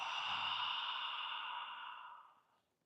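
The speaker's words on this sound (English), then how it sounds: "Breathing in and out." A long, slow exhalation during a qigong exercise, a soft breathy rush close to the microphone that fades out at the end.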